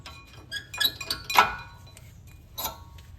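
An old front brake part from a 2019-2024 Volkswagen Jetta is tossed into a trash bin, giving a few sharp, close metallic clinks and rattles spread over a few seconds, with quiet background between them.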